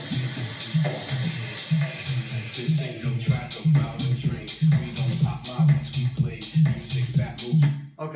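An electronic dance track plays alone through a build and drop, with a steady thumping low beat and dense bright layers holding at a loud, even level to the end.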